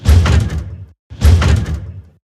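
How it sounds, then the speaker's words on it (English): Train door opening as a sound effect, two loud whooshing, rattling bursts about a second each with a short silent gap between them, no talk. "So it's the sound of a train door opening"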